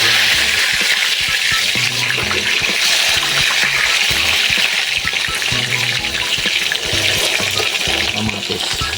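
Red snapper head frying in hot oil for a tomato-braised dish, a steady loud crackling sizzle with bubbling spatter running throughout, no voices.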